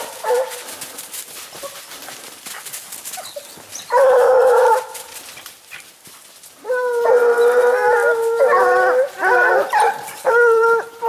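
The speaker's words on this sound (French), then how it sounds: "Je récupère les chiens comme ils se regroupent." Hunting hounds bay and howl loudly while chasing a hare outdoors, with one long burst of baying followed by a run of repeated, overlapping cries after a quieter stretch of distant yelps.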